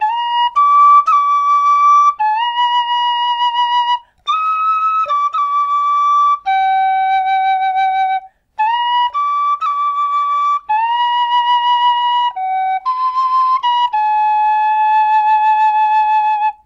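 A tin whistle plays a simplified version of a tune alone, with clear, loud, pure notes in short phrases separated by brief breaths.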